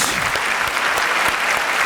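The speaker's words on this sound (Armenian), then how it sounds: "եկեք ծափարենք ընկերներ" A stand-up comedy audience claps loudly and continuously, a dense crowd applause at a New Year show that fills the whole short moment.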